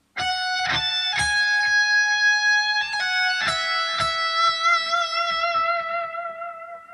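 Electric guitar plays a short lead phrase of picked notes, a few struck twice, ending on a sustained note with wavering vibrato that fades out.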